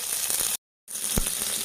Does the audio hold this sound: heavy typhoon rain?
no